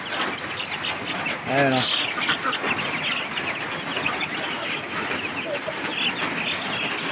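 Chicks and chickens cluck and peep at a backyard coop ahead of a typhoon, with short bird calls scattered over a steady rain-like hiss as someone speaks briefly.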